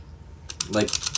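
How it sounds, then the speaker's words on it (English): Computer keyboard keys clatter in a quick burst of loud, sharp clicks, several keystrokes close together, with a voice briefly speaking over the typing. "my keys just make, like, a loud clicker, like, clicking noise."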